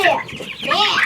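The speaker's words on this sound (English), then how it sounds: "Let's get these chicks taken care of." Baby chicks on a homestead peep close by, a dense cluster of high, rising and falling chirps that overlap for about a second.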